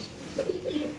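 A large male pigeon at a pigeon exhibition coos in a few soft, low rolling phrases, close and moderately loud over a faint background hum.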